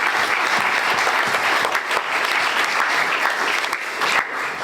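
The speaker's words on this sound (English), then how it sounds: "Can you give him a big round of applause?" A press-conference audience at Ironman Hawaii 2022 applauds triathlete Max Neumann, a loud, dense, continuous burst of many hands clapping close by, sustained throughout without speech.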